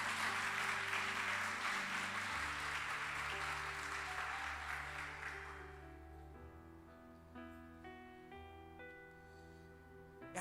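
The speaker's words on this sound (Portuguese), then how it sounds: "Dê uma salva de palmas, glorifica esse Deus" A church congregation applauds, a dense wash of clapping that fades out after about five seconds as sustained music carries on alone.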